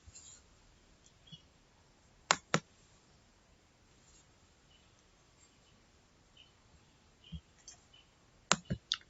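A computer mouse clicks while a folder is being created on a desktop: two quick pairs of sharp, quiet clicks, one early and one near the end, over near-silent background.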